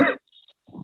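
A single short, close cough during a classroom lecture, followed after a brief pause by a second throaty rasp.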